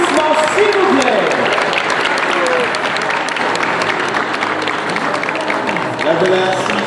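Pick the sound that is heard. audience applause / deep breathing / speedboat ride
audience applause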